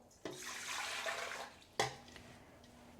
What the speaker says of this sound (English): you need 2 cups of lukewarm water, so just go ahead and add that to your mixing bowl